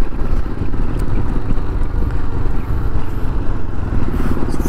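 A motorcycle engine running during a ride on a hot day, a loud continuous low rumble with steady throbbing and no pauses, alone without talk.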